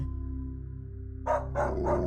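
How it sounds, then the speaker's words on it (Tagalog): Dogs barking and howling at night in a rural Filipino setting, a few loud bursts in the second half after a quiet, humming start. "Lalo na nang mayroong mga asong umalulong."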